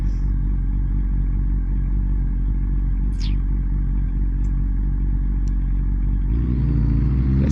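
A Honda CB400 Super Four motorcycle engine runs steadily and close up, with a loud continuous drone throughout and a slight change in pitch near the end.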